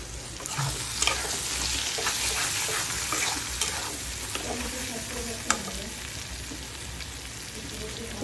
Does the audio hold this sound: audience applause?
no